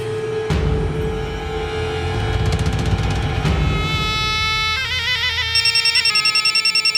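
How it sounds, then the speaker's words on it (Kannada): A phone ringtone plays loudly and close, a steady electronic melody that shifts into a rapid warbling trill toward the end, with no talking over it. "ಫೋನ್ ಬರ್ತೈತೆ"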